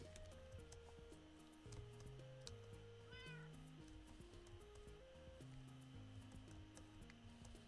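A cat in the Minecraft video game gives a short meow near the middle, heard quietly over steady in-game background music.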